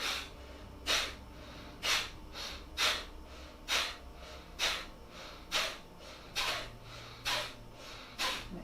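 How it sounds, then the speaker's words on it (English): Forceful yoga breathing in and out through the nose with the mouth closed, about a dozen sharp, evenly spaced nasal bursts in a steady rhythm, close and clear. "you're breathing out only through your nose and breathing in through your nose"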